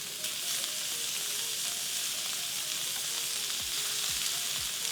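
Garlic butter steak bites sear in a hot pan with a steady, loud sizzle and crackle. A few utensil scrapes come near the end, and no one speaks.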